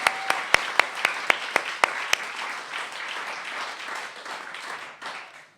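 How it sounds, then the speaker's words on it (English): Theatre concert audience breaks into loud, sustained applause with cheering after a call to welcome two performers, opening with a few sharp individual claps before dense clapping fills the hall and slowly fades. "Can you please give a great big cheer and a shout for Angie and Bruce?"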